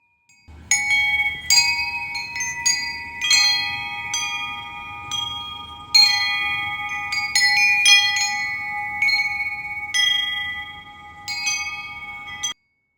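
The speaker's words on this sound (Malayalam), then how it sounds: "ഈ ഒരു ബെൽ ഷൈമിൻ്റെ സൗണ്ട് കേൾക്കാൻ നല്ല രസമില്ലേ?" An old bell wind chime, about fifteen years old, hangs at a Bangalore home and rings alone in repeated bright, sustained metallic strikes that overlap and fade, fairly near and clear over a soft low background.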